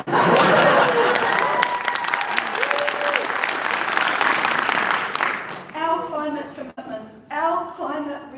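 An audience at an AGM speech bursts into loud, sustained applause with some cheering and laughter, then it fades as the speaker resumes talking.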